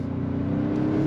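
2025 Toyota 4Runner Limited with the i-Force MAX hybrid powertrain accelerating, a steady low engine drone with a faint rising whir, heard from inside the cabin with no talking.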